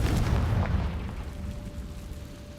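A Confringo fire-blast spell explodes in the video game Hogwarts Legacy, a single deep, booming blast that rumbles and fades over a couple of seconds, followed by a faint steady tone.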